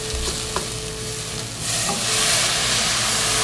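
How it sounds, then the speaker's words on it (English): Beef broth poured into a hot pan to deglaze it while making a Moroccan venison shepherd's pie: a steady loud sizzle swelling into a louder hiss of steam partway through, with a few light scraping and stirring knocks, no talking. "you're going to deglaze the pan with a little beef broth"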